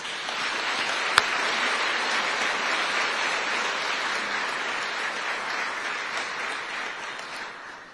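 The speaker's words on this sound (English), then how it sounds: "Please give a final round of applause for their dedication and tireless efforts" Sustained audience applause fills a Buffalo Soldiers museum ceremony at Fort Sam Houston, steady dense clapping from a large crowd that holds for several seconds with a single sharp transient early on before gradually thinning at the end.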